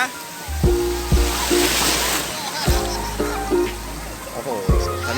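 A child kicking their legs in the sea at a beach, producing bursts of splashing and sloshing water close by while adults talk and call out over the repeated splashes.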